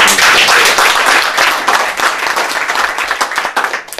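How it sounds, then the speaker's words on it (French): Loud, close audience applause at a Christmas-tree ceremony for widows and orphans in Cameroon, dense clapping at first that thins into scattered individual claps. "demander qu'on applaudisse encore un peu de plus"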